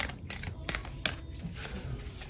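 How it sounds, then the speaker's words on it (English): Heart-shaped oracle cards shuffled by hand, a few quick soft riffling bursts and slides, close and quiet. "I always have a hard time shuffling these cards because they're heart-shaped, but we're gonna shuffle"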